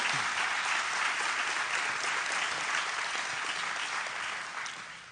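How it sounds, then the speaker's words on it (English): An audience at a fire and rescue recruit class graduation ceremony applauds award recipients, a sustained dense wash of clapping from a large crowd, loud throughout and tapering slightly at the end. "Let's give all of our award recipients a big hand, round of applause."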